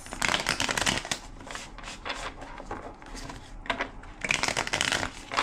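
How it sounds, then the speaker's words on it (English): A tarot card deck is shuffled by hand in a steady stream of close, crisp riffling and rustling bursts, with only brief dips between shuffles. "Two more shuffles."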